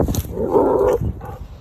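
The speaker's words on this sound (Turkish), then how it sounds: "Bak bu köpek ufak olduğu için buna fazla tepki göstermiyorlar." A small dog gives a couple of short yips and then a sustained bark or whine, close by and fairly loud, with some scuffling and faint background noise.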